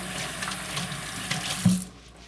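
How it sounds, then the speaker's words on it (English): Water runs steadily from a tap into a sink, close and continuous, then cuts off near the end. "And this is warm running water."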